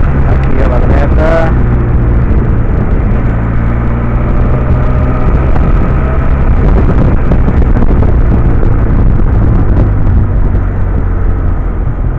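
Benelli TRK 502 motorcycle engine heard while riding, a loud continuous low drone with strong wind rush that stays constant throughout, close to the microphone.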